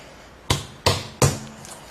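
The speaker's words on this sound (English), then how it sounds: "Take your reamer, put it in," A tyre reamer is pushed into a puncture hole in a tyre, making three sharp, rasping thrusts evenly spaced about a third of a second apart, close and fairly loud with no talk.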